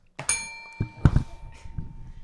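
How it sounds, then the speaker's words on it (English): A single bell strikes once near the start and its bright tone lingers, followed by a few dull thumps and soft murmuring in a podcast room. "Oh, there was a bell."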